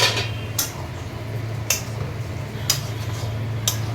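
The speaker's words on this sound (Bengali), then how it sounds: "এবার ভালো করে নাড়িয়ে চাড়িয়ে" A spoon stirring food in a cooking pot, giving a few sharp metallic clinks at roughly one-second intervals over a low, steady hum.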